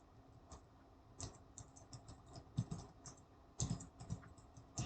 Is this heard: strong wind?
no